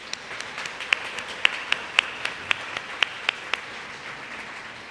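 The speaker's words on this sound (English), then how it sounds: "Let's give these folks a round of applause." Sparse, scattered clapping at the RaiseUp Families 2022 graduation celebration, with a handful of distinct sharp claps spaced about half a second apart over a quiet room.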